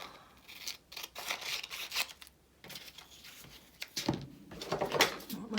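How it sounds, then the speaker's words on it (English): Scissors snip through paper while letters are cut out one at a time at close range. The short, crisp cuts and rustles come in uneven bursts, separated by brief pauses. "I hope I'm cutting straight."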